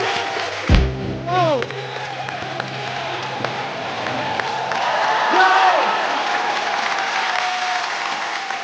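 A studio audience at a Hindi comedy talk show bursts into loud applause and cheering for actress Taapsee Pannu, whooping over a sustained wash of clapping after a short host voice and swelling sounds at the start.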